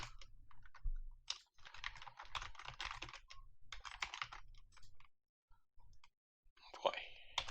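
Close keyboard typing while code is written for a Unity mobile game: irregular bursts of quick clicking keystrokes with short pauses, and a brief sharper noise near the end.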